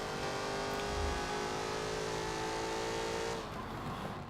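A race car in a video game holds a steady, high engine drone that sustains at an even pitch and then drops away near the end, loud and close, with no speech.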